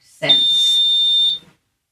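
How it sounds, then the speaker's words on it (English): A driveway alarm gives one steady electronic beep of about a second, loud and close, standing alone with nothing else sounding around it. "That was just our driveway alarm."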